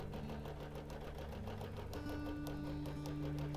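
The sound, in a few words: quilting sewing machine basting across the bottom edge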